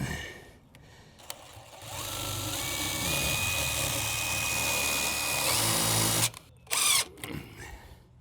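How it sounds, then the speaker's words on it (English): Cordless power drill driving screws into timber framing for a budget garden shed, whirring in a steady sustained burst for several seconds that rises slightly in pitch, then cutting off with a couple of short trigger bursts. "drive the screw, go in reverse"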